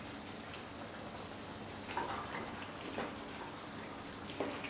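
Beef bunny chow curry with coriander simmering in a covered pot, a soft steady bubbling and sizzling hiss throughout with a few faint clicks and taps, no voices.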